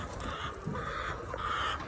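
Hens at a layer farm give soft, faint clucks in a short burst against a low background of barn noise.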